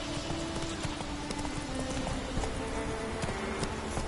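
A horse gallops in the video game The Witcher 3, its steady, rapid hoofbeats clopping close and loud over a dense wash of game ambience for the whole stretch.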